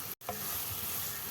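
Chopped onions sauté with ginger garlic paste in a kadai, a steady close sizzle broken by a brief dropout and a light scrape of stirring.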